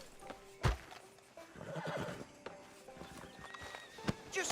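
In the Red Dead Redemption 2 video game, a horse lets out a loud whinny while its hooves clip-clop at a walk on a frontier town street outside the sheriff's office, with faint background ambience and scattered hoof strikes.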